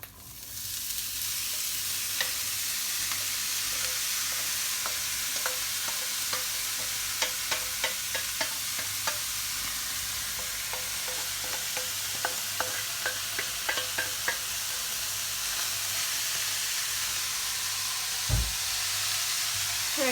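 Ground meat browning for tacos in a pan, a loud, steady hissing sizzle with many small crackles and pops, up close, ending with a low bump, no speech.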